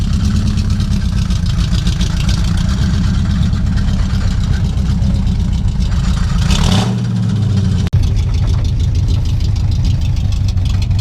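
A big truck with no power steering idles loudly and steadily nearby, its deep engine rumble continuous for the whole stretch, with a brief rev and dip partway through.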